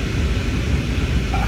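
A fixed-wing airliner is landing at Kochi, its broad, steady engine roar and cabin rush heard from inside throughout, constant and fairly loud with no talk.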